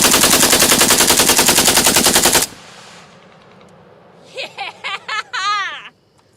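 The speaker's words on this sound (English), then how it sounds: "It was definitely AK fully automatic" Fully automatic AK-47 fire in a video game, a loud continuous burst lasting about two and a half seconds before cutting off, followed by quieter scattered sounds.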